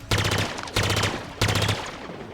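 Halo Infinite carbine fires three quick three-round bursts in a video game, each burst loud, sharp and evenly spaced, with no talking.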